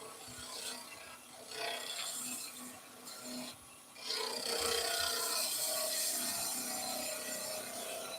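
Skew chisel slicing into a timber workpiece spinning on a woodturning lathe, a steady close scraping and rasping hiss with a brief pause midway, then louder continuous cutting, no talking.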